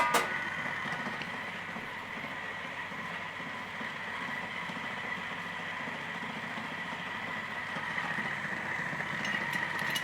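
A coffee grinder set to level 2 runs steadily through beans, a continuous close, even motor whir with gritty grinding that holds at one loudness for the whole stretch.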